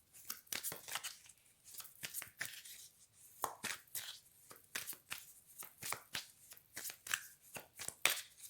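Tarot cards are shuffled by hand in quick, crisp riffles and slides, repeated bursts of papery flicking close to the microphone with short gaps between them.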